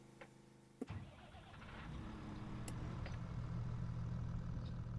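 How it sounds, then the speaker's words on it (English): A Kubota tractor engine in the Farming Simulator 25 video game cranks with a sharp click, then settles into a steady, loud, low idle rumble that holds to the end. "Start the engine."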